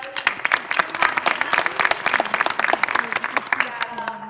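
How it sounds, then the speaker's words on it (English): An audience at an MPAC performance of 12 Angry Villains gives a round of applause: brisk, dense clapping with sharp individual claps that rises and falls in loudness throughout. "so we like to always give them a round of applause"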